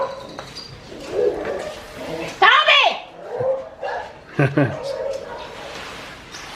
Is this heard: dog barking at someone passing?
yes